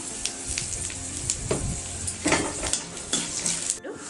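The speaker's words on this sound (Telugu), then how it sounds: "ఇవి మంచిగా ఫ్రై చేసుకుందాము. ఇప్పుడు కొంచెం కాజు, కొంచెం ఇంగువ వేసుకుందాం." Cashews and asafoetida frying in a hot pan with chana dal, a steady close sizzle broken by several scrapes and clinks of a spoon stirring against the metal.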